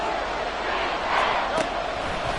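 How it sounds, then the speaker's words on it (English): Stadium crowd noise from a Madden 24 American football game, a steady dense roar of cheering fans building ahead of a big third down, continuous and fairly loud throughout with no clear talk on top. "the crowd getting into it as we come up on a big 3rd down"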